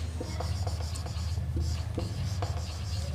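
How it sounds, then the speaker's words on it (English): Handwriting for a class 6 algebra lesson, rapid scratchy pen or chalk strokes in short repeated bursts over a low background hum, with no talk. "Okay, I am writing here mother's age."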